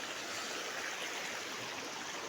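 Steady rushing of flowing river water, an even broadband wash with no breaks and no voices.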